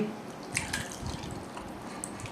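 Plum (aloo bukhara) water for a chutney is poured, giving a quiet, splashy trickle with scattered drips over a couple of seconds and no talking.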